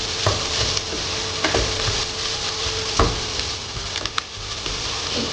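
Onions, bay leaves, ginger and chilies fry in a pot for a spicy Anglo-Indian pork roast. A steady close sizzle runs throughout, with occasional stirring scrapes and taps of a utensil against the pot.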